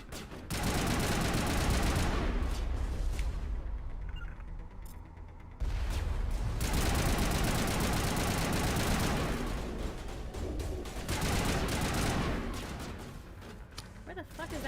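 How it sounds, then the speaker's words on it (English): Repeated bursts of gunfire shot into the air in Mass Effect Legendary Edition on PS5, loud sustained volleys in two long stretches with a brief gap between them, no talking over them. "let me shoot at the air pointlessly."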